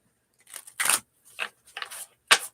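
A deck of playing cards being shuffled by hand, several short crisp riffling bursts with brief gaps, close and fairly clear, no talking.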